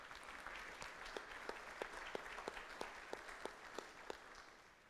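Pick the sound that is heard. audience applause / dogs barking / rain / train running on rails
audience applause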